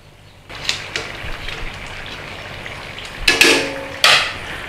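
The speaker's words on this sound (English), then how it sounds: "it's a nice gentle frying here" Soft, steady sizzling of vegetable spring rolls gently frying in oil, with occasional clinks and scrapes of a utensil against the pan.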